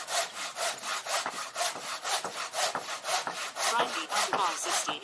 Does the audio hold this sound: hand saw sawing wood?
yes